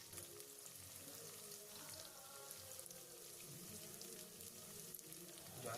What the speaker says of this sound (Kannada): ಹಸಿ ಬಟಾಣಿನೂ ಒಂದು ಅರ್ಧ ನಿಮಿಷ ತನಕ ಫ್ರೈ ಮಾಡ್ಕೊಳ್ಳಿ.